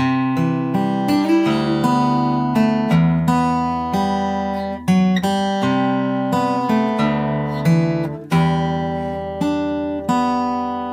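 A fingerstyle guitar plays a flowing melody from Silent Hill 2 over ringing bass notes, each pluck clear and close, steady and unaccompanied by any voice.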